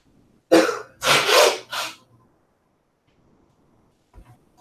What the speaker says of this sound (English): I'm going to get up a moment just to blow my nose.